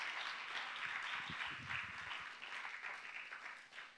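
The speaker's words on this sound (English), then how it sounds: "can you just give yourself a round of applause?" A church congregation applauds steadily, a dense wash of clapping that stays fairly even and then thins slightly toward the end, with no talk over it.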